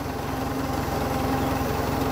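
A Farmall 350 tractor engine idles close by with a steady, loud, rapid throbbing rumble and no talk over it.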